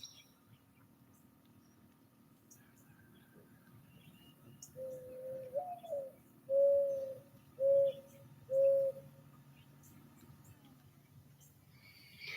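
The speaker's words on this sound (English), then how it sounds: "what is that bird that we're hearing in the background? I've always heard them called a rain crow or something like that" A bird known locally as a rain crow calls from a distance outdoors, giving about four hollow, cooing notes in a short evenly spaced series over a quiet background.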